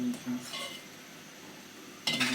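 A spoon stirs chicken corn soup with egg and salt in a pot, giving faint metallic clinks and scrapes at the start and a brighter burst of clinking near the end, close by, over quiet kitchen background.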